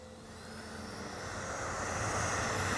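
A Freewing F-14A Tomcat RC jet with swept-back wings passes overhead, its electric ducted-fan roar building steadily louder over a few seconds into a broad, rushing whine, with no voices.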